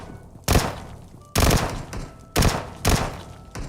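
Gunfire in the video game PUBG Mobile comes in four loud, sharp bursts spaced about a second apart, each one ringing briefly before fading, with no talk over it.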